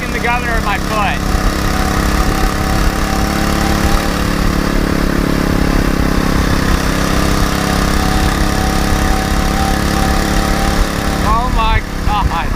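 A 79cc motorized bike engine running hard and accelerating, a loud, close, buzzy small-engine roar sustained throughout, with brief voice sounds at the start and end.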